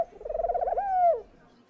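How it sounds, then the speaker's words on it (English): A dove gives a single close, clear coo, a fluttering trill that rises into a smooth sustained note before dropping away. "The kind dove could tell that Little Bird wasn't local"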